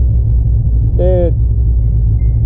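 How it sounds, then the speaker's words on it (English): A 1986 Dodge D150 pickup rumbles with a deep, steady low engine tone from just ahead on the road, with a brief voice rising over it midway. "just listen to this truck in front of me. I think it's an 86 D150, a Dodge."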